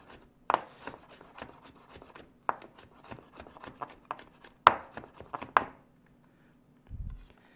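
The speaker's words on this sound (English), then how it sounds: "Take my garlic, and I'm going to give it a little smash, a couple cloves, just like that. Give it a kind of a rough chop just to get started." A knife smashing a couple of garlic cloves and rough-chopping them on a board: sharp, distinct cracks and quick tapping cuts in an irregular rhythm, close and fairly quiet, with a soft thud near the end.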